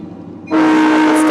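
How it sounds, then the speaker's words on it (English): A train passing a house sounds its horn, which starts suddenly halfway through and holds loud and steady over the rolling noise. "That's the train that goes by my house every day."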